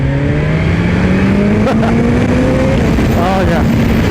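Engine of a 2020 BMW S1000 XR motorcycle pulling hard in second gear around 30 mph, loud and close with rising pitch sweeps, heavy wind rush and a voice speaking over it.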